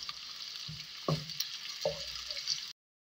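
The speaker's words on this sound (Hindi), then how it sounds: "प्याज ऐड कर देते हैं, प्याज बहुत कम डलता है इसमें। इसे हम गोल्डन फ्राई कर लेते हैं।" Onions being fried until golden in a pan for aloo palak gosht, giving a steady soft sizzle with a few stirring scrapes. Quiet and close, with no talk.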